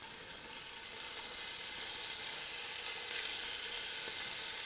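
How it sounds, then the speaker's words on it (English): Olive oil sizzles steadily in a hot pan as beef browns, a constant dense frying hiss that holds at an even level throughout with no talk. "We're going to let that olive oil get real hot before we put the meat in."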